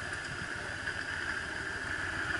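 Heavy Yamaha Drag Star 1100 cruiser motorcycle engine idling outdoors, a steady low rumble with even pulsing throb, moderately loud and continuous without speech.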